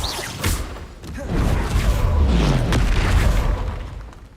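A Bombarda spell explosion in Hogwarts Legacy: a sharp pop, then a deep booming blast that swells and rumbles for a few seconds with whooshing debris, close and loud, no voices.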